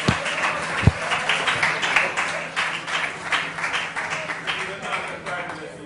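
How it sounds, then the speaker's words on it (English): A crowd applauds class 6A at a Jamaican school play: dense, steady clapping that stays fairly loud throughout, with voices mixed in beneath the ovation. "Now let's give the geniuses of 6A a very big round of applause"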